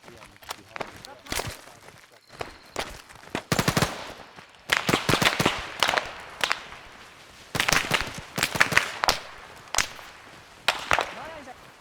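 Rapid bursts of machine gun fire in a tactical military shooter game during a night raid on an enemy camp, sharp repeated volleys of varying length, some clustered close together, with team members talking over the shooting.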